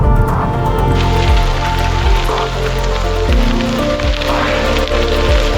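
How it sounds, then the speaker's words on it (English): Hail and rain fall steadily on a mountain bikepacking loop near Boulder, Colorado, a dense pattering of drops with occasional harder impacts, loud and continuous with no talking. "A little bit of hail. A little bit of water."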